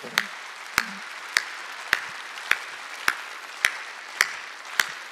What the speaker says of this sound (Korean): 박수를 치려면 치고 말라면 말고